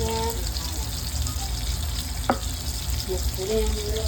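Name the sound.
apples frying in frying pan with syrup, stirred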